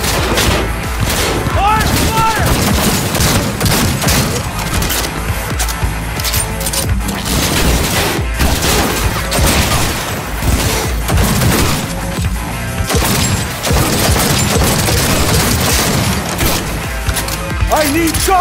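Heavy, sustained gunfire in a Cyberpunk 2077 firefight, dense volleys and automatic bursts with booms and crashes running nearly nonstop, loud and close, with shouted voices over the shooting.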